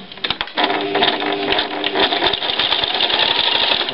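A domestic sewing machine stitches fabric in a fast, steady mechanical chatter, loud and close, with an even rapid rhythm that runs continuously after a brief start.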